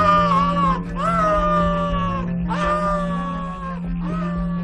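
Strained, wavering human screams dubbed into the 1981 slasher film Scream, several drawn-out wails in a row with brief breaks, loud and close over a steady low hum.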